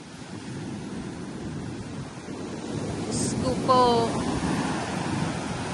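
Sea surf surges and washes steadily against a shoreline hut, with a low, continuous rush mixed with wind noise. A voice speaks briefly over it.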